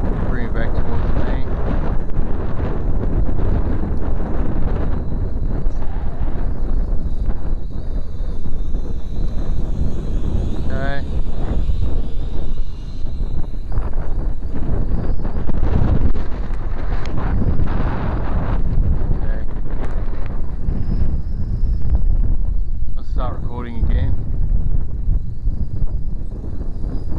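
Wind buffets the microphone outdoors during a LiDi RC L15HF FPV quadcopter flight, a loud continuous rumbling roar that stays close and steady, with a person talking over it.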